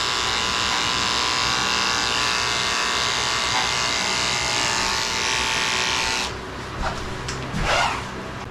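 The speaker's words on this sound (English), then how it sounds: "but I gotta shave it out." Electric clippers buzz steadily and loudly up close while shaving hair from a Shih Tzu's ear at a groomer, then the hum drops away near the end, leaving a few faint handling sounds.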